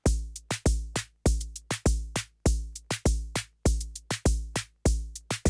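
Korg Volca Drum beat with open hi-hat added on the kick steps, a punchy repeating pattern of booming kicks and hissing hat hits in steady rhythm, loud and dry with no voices.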